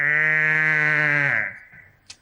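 A mimicry artist imitates a buffalo's call with one long, loud, nasal bleating tone held close to the mic, falling off at the end into a faint breath.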